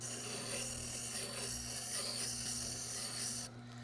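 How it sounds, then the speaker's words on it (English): A timber framing chisel grinds against a Tormek sharpening stone in a steady, close rasping scrape over a constant motor hum, fading slightly at the end. "it's just a matter of continuing to grind until the whole surface of the chisel is hitting the stone"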